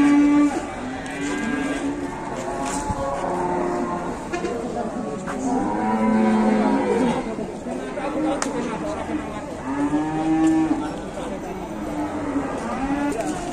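Very large cattle moo repeatedly in long, drawn-out calls at close range, rising and falling every few seconds over a busy background of people talking.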